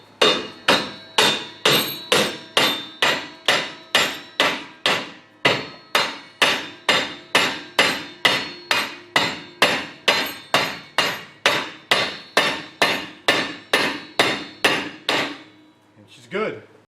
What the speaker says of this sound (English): And hammer her home.